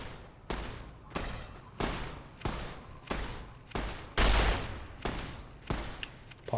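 Repeated gunshots ring out in Fallout New Vegas, fired roughly every half second to a second in a steady, sharp sequence, with one heavier, louder blast partway through and no talking.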